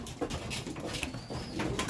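Racing pigeons coo in a loft at early morning during breeding season, a soft, continuous layered murmur of several birds close by with no talking.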